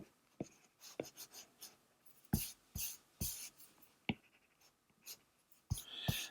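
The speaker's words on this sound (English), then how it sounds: "Better erase that guideline." A pencil eraser scrubs away a drawn guideline on paper in short, brisk rubbing bursts, close and dry, with small pauses between strokes.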